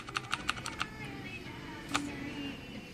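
Keys clatter in a quick run of clicks on an Aula low-profile mechanical keyboard, with one more isolated keystroke later, all fairly quiet and close.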